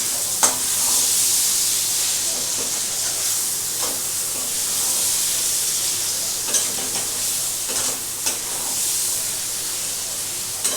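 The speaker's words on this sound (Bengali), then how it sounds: "আমি গ্যাস কমিয়ে একটু নাড়বো" Paneer korma with capsicum being stirred in a pan over a low gas flame: a steady soft sizzle and hiss with occasional light scraping clicks from the spoon, close and continuous.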